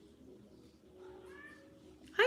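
A cat meows in a drawn-out rising call, followed by a sharp, louder burst at the end, close by and otherwise quiet around it.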